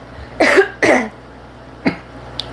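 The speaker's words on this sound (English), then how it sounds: "They're coughing left and right." Two loud coughs in quick succession, followed after a pause by a softer short cough and a faint click.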